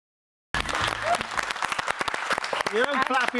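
Studio audience and podcast hosts clapping after a short silence, a loud burst of applause with people talking and laughing over it.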